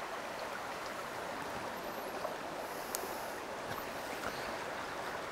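A small creek, the Huon River, flows over quartzite rocks in a steady, soft wash of babbling water, moderately distant and faint, with a few faint high chirps and clicks scattered through it and no one speaking.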